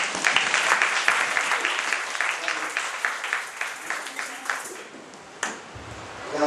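A crowd claps at a Sunday school anniversary gathering, a lively burst of many hands that gradually thins into scattered claps before a final few pats.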